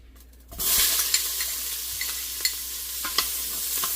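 Garlic and onions sizzle in a pan over browned fond, a steady bright frying hiss starting half a second in and continuing, with a few soft stirring clicks and scrapes.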